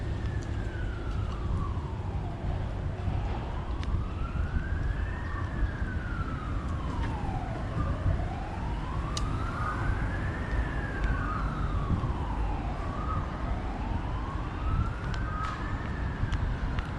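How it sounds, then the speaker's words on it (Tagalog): Ambulance sirens wail on a Hong Kong street near a hospital, a steady rising-and-falling tone repeating in long sweeps over constant traffic rumble, moderately close and loud throughout. "Laging ganyan, may mga ambulansya."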